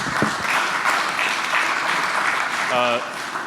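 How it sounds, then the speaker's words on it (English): Applause from an audience at a start-up showcase on buildings and agriculture, a steady broad wash of clapping lasting throughout, with a brief tonal sound near the end. "please join me in giving a round of applause to Bruno again"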